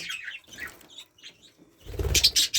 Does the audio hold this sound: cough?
no